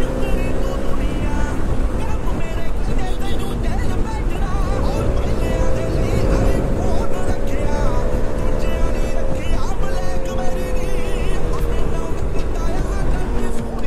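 A motorbike is ridden fast on a road near Solan, its engine whine holding steady tones and then climbing in pitch over heavy, continuous wind rush close to the rider.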